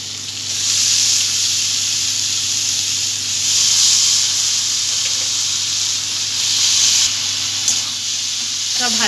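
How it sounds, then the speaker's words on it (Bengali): Steady, loud sizzle of hilsa fish heads and boiled cabbage frying with spices in hot oil, continuous hiss throughout with faint clinks of utensils. "এবার সেদ্ধ করে রাখা বাঁধাকপিটা দিয়ে দেব।"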